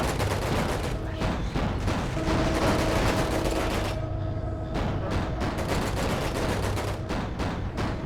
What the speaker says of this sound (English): A little machine gun in the middle there in the command center.